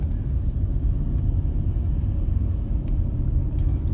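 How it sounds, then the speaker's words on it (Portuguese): A car in a driving lesson pulls away in first gear, its engine giving a steady low rumble from inside the cabin that holds even and unbroken, with no talk. "achou o ponto da embreagem e agora ela tá acelerando"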